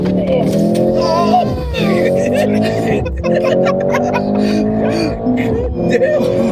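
A Mercedes C63 S Hybrid launching from a brake-held standstill under full throttle, loud engine roar climbing through rising pitch sweeps with brief dips at gear changes, close and continuous.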